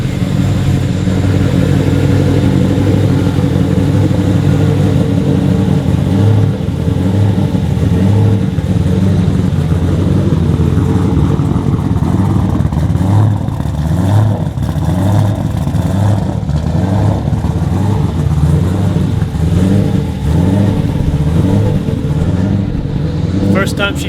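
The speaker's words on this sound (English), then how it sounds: "We got the car warming up." A Nissan Z idles loud and close as it warms up, its steady engine note swelling in revving throbs throughout, with people talking faintly underneath.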